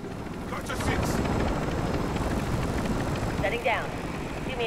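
A helicopter sets down in the video game Call of Duty, a steady loud rotor thump and engine roar filling the scene, with faint voices underneath.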